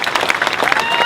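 Brief burst of outdoor crowd clapping at a Memorial Lane dedication ceremony, dense and close, with voices mixed in.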